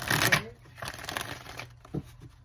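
Cards riffle and shuffle in a quick, papery flurry up close, with softer shuffling continuing afterward.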